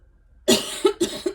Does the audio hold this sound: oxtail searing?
no